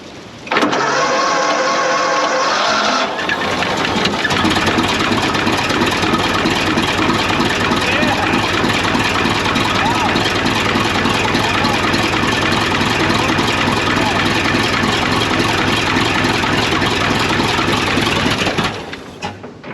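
A 1926 Seagrave ladder truck engine cranks for about three seconds, then catches and runs loud and steady at close range, a rough, continuous rumble that cuts off abruptly near the end.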